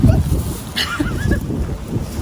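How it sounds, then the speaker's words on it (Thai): Strong wind gusts blowing outdoors in a rural Thai setting, a steady rushing roar with buffeting on the microphone and brief bits of voice and chirps over it. "ลมแรงมากโอ้"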